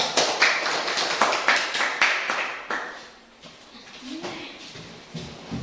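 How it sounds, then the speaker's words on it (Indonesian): A classroom group claps in a short burst of applause for group 2, the claps loud and closely spaced at first, then fading out as a voice speaks over the end. "Tepuk tangan dulu untuk kelompok 2."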